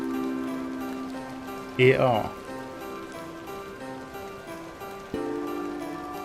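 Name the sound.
rain in video game The Excavation of Hob's Barrow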